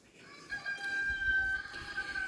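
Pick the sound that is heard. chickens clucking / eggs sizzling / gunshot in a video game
chickens clucking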